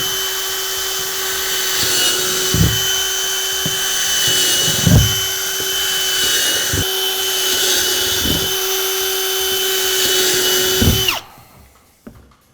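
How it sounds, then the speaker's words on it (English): Power drill boring holes into the bottom of a plastic worm bin tub, a loud steady motor whine broken by several short bursts as the bit bites through, then stopping abruptly near the end. "So I've drilled about 16 holes into the bottom of this tub."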